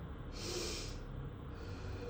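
Deep diaphragmatic breathing during a singing exercise, with one clear, airy inhalation near the start, close and alone, over a steady low room hum.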